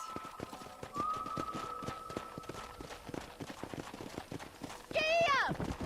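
Horse hooves clip-clop steadily at a brisk pace while riding in Red Dead Redemption, with talk over the top and a horse's whinny near the end.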